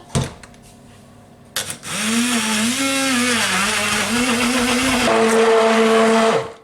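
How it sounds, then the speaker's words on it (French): An electric mixer whirs steadily through pumpkin cake batter with eggs and powdered sugar, switching on after a few clicks and holding a loud, even motor drone that rises slightly near the end before cutting off. "Nous passons au mixage"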